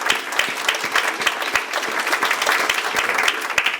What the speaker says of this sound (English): if everybody could give Mr. Allison a round of applause too